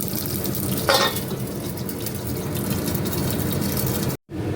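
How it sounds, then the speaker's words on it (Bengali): Green chillies, curry leaves and mustard seeds sizzle steadily in a hot pan, a continuous close crackling hiss with a brief louder burst near the start, then a short dropout at the end. "প্যানে কাঁচা লঙ্কা আর চারি পাতা ফোড়ন দিতে এবার সরষে ফেরত দিয়ে দেবো"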